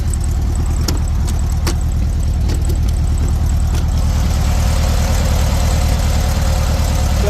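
A 1929 Mercedes-Benz SSK replica, unrestored and out of gear, idles steadily up close with a deep, even, loud engine rumble and a few sharp clicks early on.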